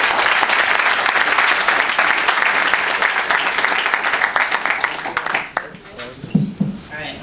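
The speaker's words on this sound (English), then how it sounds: "Give her a round of applause." Dense audience applause at a hip hop summit, loud and sustained clapping that fills the room, then thins and fades out toward the end as a few scattered claps linger.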